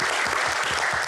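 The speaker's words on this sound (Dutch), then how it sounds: "Geef hem ook een warm applaus." Warm applause from an audience at a Dutch panel event on agriculture, a dense, steady wash of many hands clapping close and continuous throughout, with no voices.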